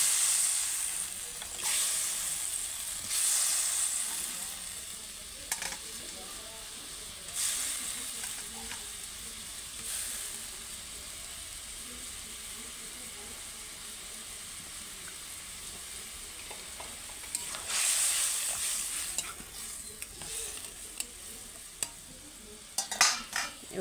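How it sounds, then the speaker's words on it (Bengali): A boiling mustard fish curry as fish pieces are added, a long steady hiss and bubbling simmer with occasional louder bursts and scrapes, some faint talk in the background. "দেখো সমস্ত মশলা দিয়ে ঝোলটা আমার ফুটে গেছে,"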